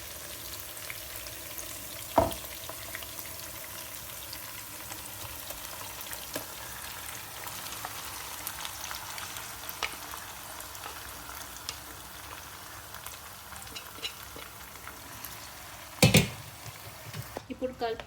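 Marinated chicken for Hyderabadi dum biryani frying in a pan, a steady low sizzle running throughout with a couple of sharp utensil knocks near the start and end.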